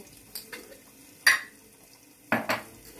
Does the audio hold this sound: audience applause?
no